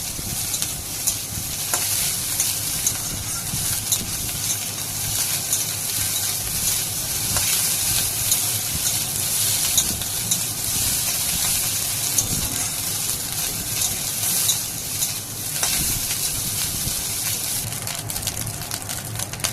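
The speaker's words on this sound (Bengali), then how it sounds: "ঘি দিয়ে ভাতটাকে আর একটু ভালোভাবে ভেজে নেব" Leftover rice frying in ghee in a pan, giving a loud, continuous sizzle with the hiss and scrape of steady stirring throughout, close up and without any voices.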